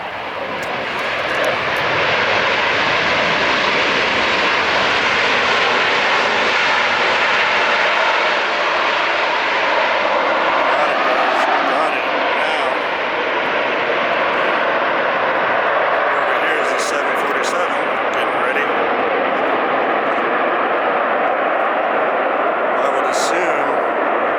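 An SAS airliner in new livery lands at LAX airport, its engine roar loud and sustained throughout, a broad steady rush that swells slightly as it passes close by, heard alone without talk.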